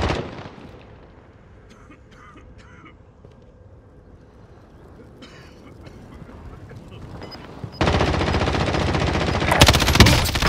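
M13 rifle fire in a Warzone battle royale match, starting with faint distant bursts over low game ambience, then loud sustained rapid gunfire near the end.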